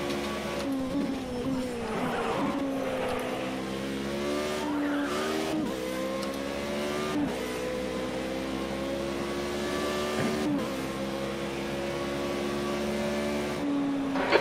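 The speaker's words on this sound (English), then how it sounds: "You're locking your left front into Tamburello." A Formula-style race car in a video game sim brakes hard into corners at Imola, engine note dropping in stepped harmonic sweeps as the left front tyre locks, a steady loud onboard drone throughout with brief squeals.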